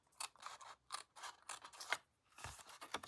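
Scissors snip paper along a score line in a series of quiet, close, crisp cuts, about six in all, with short pauses between them.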